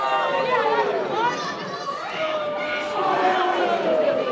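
Wrestling fans at an indoor show chant and jeer in unison, a dense loud crowd roar with rising and falling voices throughout.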